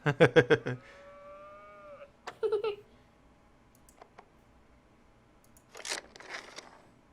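A cow moos in the video game That Dragon, Cancer: one long, drawn-out low call, framed by short clicking and tapping game sounds before and after, with no talking.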